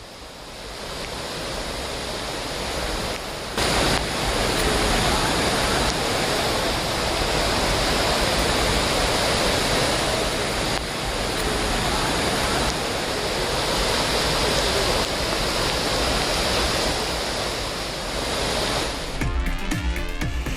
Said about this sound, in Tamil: இதனால் அருவியின் முதல் மற்றும் இரண்டாவது பாலத்தை தாண்டி வெள்ள நீர் கரை புரண்டு ஓடுகிறது.